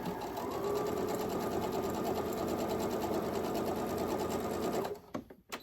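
A sewing machine chain-piecing quilt fabric for a four-patch baby quilt, running steadily at close range with a fast, even stitching whir for several seconds before stopping abruptly.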